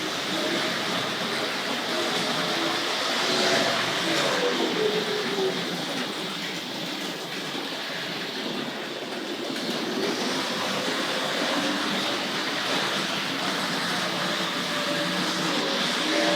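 A Tri-ang Railways RFX suburban electric model train runs steadily along its track, a continuous rolling rattle and hum with faint clicking over rail joints, no voices.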